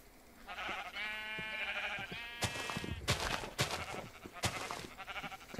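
Sheep in Minecraft bleat in a couple of drawn-out, nasal calls up close, followed by scattered clicks and knocks from the game.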